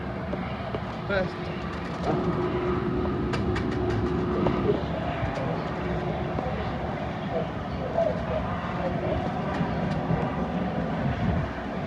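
A London Underground Metropolitan Line train at a station, with a steady low rumble and hum of the train, faint clicks and squeals, and people talking in the background.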